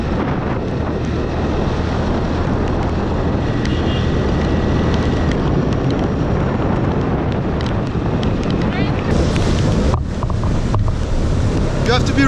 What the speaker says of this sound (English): And of course the rain is coming now.